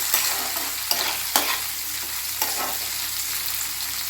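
Garlic and curry leaves frying in a pan, giving a continuous bright sizzle broken by several sharp stirring clacks of a spoon against the metal, with no voices.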